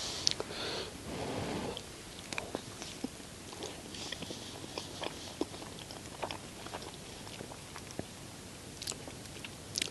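Close, crisp chewing and biting of a bun from an MRE ration pack, with repeated crunchy bites, wet mastication and occasional sniffs through the nose, all without speech.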